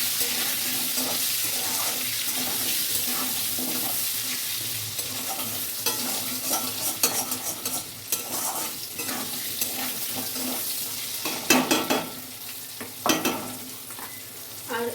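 Potatoes frying with taro in a pan give a continuous close sizzle with irregular stirring scrapes and clatters, mixed with running tap water, growing busier and louder in the second half.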